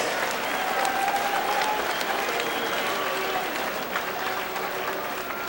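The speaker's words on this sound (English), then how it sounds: "one more round of applause for both of these lightweight warriors" A fight crowd at an amateur lightweight championship bout applauds both fighters, a sustained wash of clapping with scattered cheers, somewhat distant and easing slightly toward the close.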